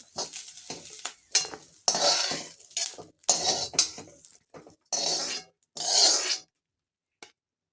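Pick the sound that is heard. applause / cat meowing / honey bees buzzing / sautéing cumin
sautéing cumin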